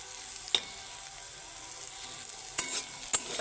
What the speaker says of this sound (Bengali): তো এই পেঁয়াজকলি ভাজা করছি